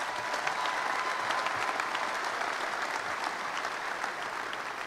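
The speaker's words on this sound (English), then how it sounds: "give them a round of applause." Sustained crowd applause at a 2016 Indiana basketball senior night, a dense steady clapping that carries evenly throughout, fairly close and full, with no voices standing out.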